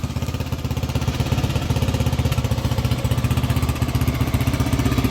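A vintage 1984 Honda XL350R motorcycle engine, run again after years of sitting, thumps at a steady fast idle close by, its pulsing beat loud and even throughout.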